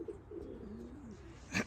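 Racing pigeons arriving at the loft after a young bird race give soft, low cooing calls, faint and close, with a short rustling burst at the end.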